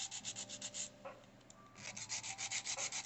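Hand file rubbing back and forth across an acrylic nail on the pinky, a close, steady rhythm of quick rasping strokes in two bursts with a short pause between, no talking.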